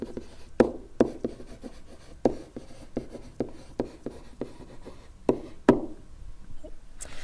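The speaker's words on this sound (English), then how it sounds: "always takes the pen a little while to start writing" A pen scratches across a writing surface in short strokes with intermittent sharp taps, close up and fairly clear, with no talking over it.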